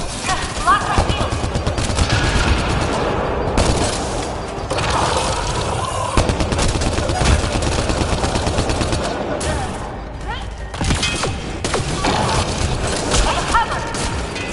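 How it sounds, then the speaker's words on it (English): Gunfire in the video game Mass Effect Andromeda: sustained rapid automatic shots and impacts rattle continuously and loudly, with shouting voices mixed in during a combat exchange. "Incoming fire!"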